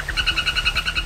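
A frog in the Amazon forest gives a steady, rapid pulsing croak, about ten even beats per second, close and loud over a low background hum.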